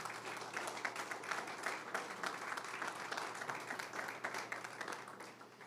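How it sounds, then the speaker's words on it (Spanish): A church congregation gives God a loud, sustained round of applause: dense, steady clapping from many hands, filling the room evenly with no talk over it. "¿Por qué no le das un fuerte aplauso a Dios?"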